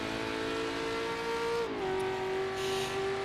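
A historic endurance race car's engine drones loudly in Assetto Corsa's 12-hour Le Mans race, holding a steady high note, then dropping pitch briefly as it shifts before settling into a sustained roar.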